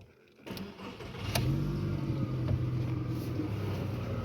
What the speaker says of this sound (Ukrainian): Зараз я заведу автомобіль.